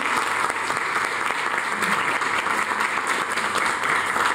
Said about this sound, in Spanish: quisiera pedirles un fuerte aplauso